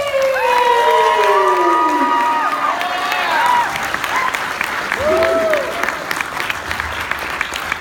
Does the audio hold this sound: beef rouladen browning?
no